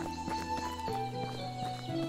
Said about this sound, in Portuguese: Cadê o nosso cavalo?